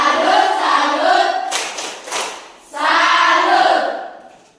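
A school class chants together in a loud group voice with a short burst of hand clapping in the middle, then the unison chanting resumes.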